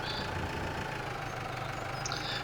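A tractor engine in Farming Simulator 2017, hauling oversized modded bale pallets, drones with a steady low, labored rumble that holds even throughout, with no talk.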